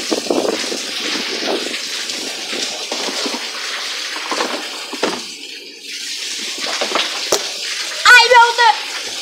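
Water running and splashing in a bathroom flooded by rain, a steady wash of noise under excited talk from several people, with a brief bubbling burst near the end.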